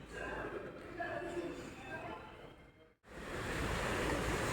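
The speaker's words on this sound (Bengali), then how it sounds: "একদম সমুদ্রের মতো ঢেউ আসছে" Strong waves on the Mandovi River shore near a fort in Goa wash in, rising after a brief dropout into a steady surging rush; a voice speaks faintly early on.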